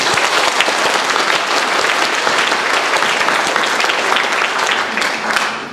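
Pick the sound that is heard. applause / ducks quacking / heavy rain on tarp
applause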